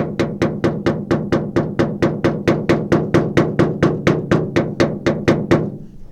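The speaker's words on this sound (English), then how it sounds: "grab my hammy and tappy and follow this little ridge right here" A PDR hammer drives a tap against a dent ridge on a Chevy 2500HD 4x4 body panel, giving about twenty sharp, evenly spaced metallic knocks in a steady rhythm, close and loud, ending in a short ringing fade.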